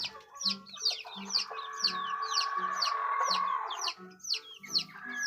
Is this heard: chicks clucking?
yes